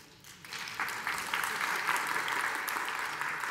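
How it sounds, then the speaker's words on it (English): Audience at a Scala programming conference talk clapping steadily for a few seconds, fairly soft and a little distant, with some room noise underneath. "Oh, stop clapping."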